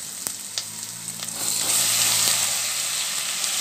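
Tomatoes tipped into a pan of onions already frying hard, the sizzle rising sharply and staying loud and steady, with a few soft knocks at the start and no talk.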